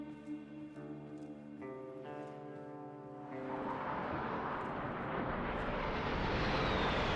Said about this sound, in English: Scaldra fighter planes fly home from their latest air raid